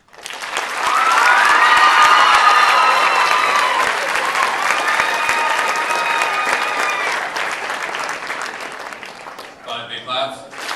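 Loud applause and cheering from a school crowd after a youth candidate's speech, dense clapping with whoops and shouts rising early, slowly thinning, then a voice speaking at the end.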